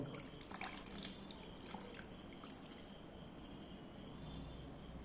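Water drains from raw mangoes through a strainer while making a pickle, heard as a faint, steady trickle with scattered drips, close by and with no talk.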